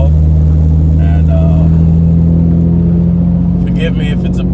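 Nissan 370Z with OBX long tube headers and straight-piped exhaust, a loud deep droning rumble heard from inside the car while cruising, with someone talking over it.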